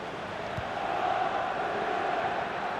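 Stadium crowd in the FIFA 18 football video game, celebrating a goal in a Coppa Nazionale semi-final against Milan: a dense, steady roar of cheering voices that swells slightly midway and stays distant and broad throughout.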